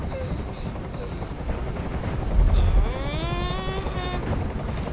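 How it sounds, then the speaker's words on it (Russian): A helicopter hovers near a rooftop standoff in the video game Detroit: Become Human, its rotor throbbing steadily under a low rumble, with a sudden louder burst partway through and faint voices in the background. "Как же меня бесит этот звук! Прикажи им, чтобы вертолет убрался!"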